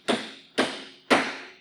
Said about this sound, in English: You can hammer them in, and we'll just tap that back in.